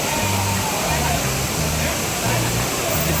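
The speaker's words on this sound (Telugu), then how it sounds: "దిగ్గు అదిగు అది వాటర్ ఫాల్స్." A waterfall at Monkey Falls in the Anaimalai Tiger Reserve roars steadily and close, a dense wash of falling water with no breaks from start to finish.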